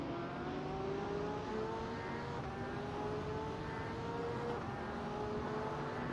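A GT3 race car heard onboard in a sim racing game at the Belgian Grand Prix, its engine a steady, loud, continuous drone with rising and falling pitch as it accelerates, alone without talk.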